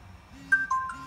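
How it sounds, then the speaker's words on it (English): A short two-tone phone notification chime sounds for an invitation on a Xiaomi Xiao Fang CCTV setup, a quick bright double beep heard close and alone. "the recipient phone will receive a notification"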